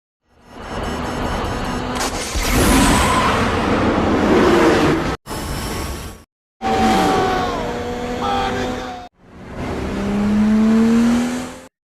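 Race cars in a Fast and Furious street-race scene roar as they accelerate on nitrous, loud, close engine revving with tire squeal, cut into several abrupt segments separated by brief silences.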